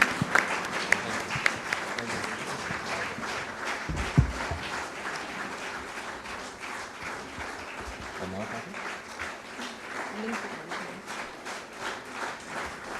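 Sustained audience applause for Pakistani javelin thrower Arshad Nadeem at a public event, a steady wash of clapping from a large crowd with a brief louder burst near the start and faint voices underneath.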